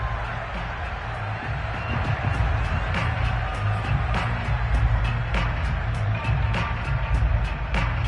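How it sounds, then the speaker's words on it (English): Broad roar of a football stadium crowd shouting while watching a replay, a continuous dense wash of voices with a commentator talking over it. "Plenty of shouts from this crowd as they watch the replay."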